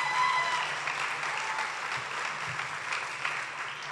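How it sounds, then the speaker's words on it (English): Audience applause for county commissioners at a YMCA volunteer recognition event, a soft, steady patter of many hands that stays at an even level throughout. "please give them a round of applause for this branch."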